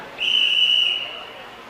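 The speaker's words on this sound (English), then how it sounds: "the whistle blows, and on we go to game number 5" A referee's whistle gives one sustained, piercing blast that lasts almost a second, signalling the start of the next game at a women's world championship bowling event. Hall noise hums underneath.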